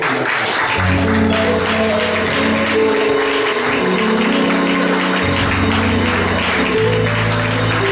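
A church congregation applauds together, a dense, steady wash of clapping throughout that blends with sustained keyboard or organ tones underneath.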